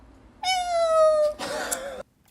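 A single cat gives a long, drawn-out meow followed straight away by a second rougher, shorter one, close and loud against a quiet background.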